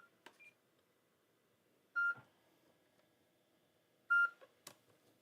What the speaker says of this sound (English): Now I'm just getting a steady beep with nothing.